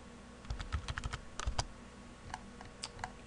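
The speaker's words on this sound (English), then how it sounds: "if we go to command prompt and type IP config command" Computer keyboard keys tapped in short bursts while a command is typed, a close, crisp clicking with brief pauses, faint and isolated.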